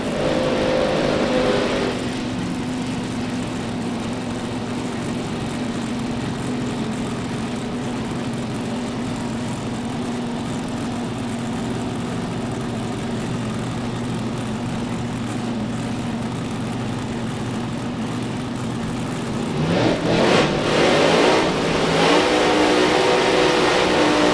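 Drag racing cars running down the strip at 267 miles an hour, a long, steady, loud engine drone with a sharp surge of extra roar near the end.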